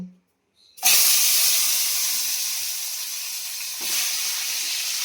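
Crabs dropped into hot oil in a pan on a gas stove for a home-style Bengali crab curry set off a loud, steady sizzle and hiss that starts abruptly and flares again briefly partway through.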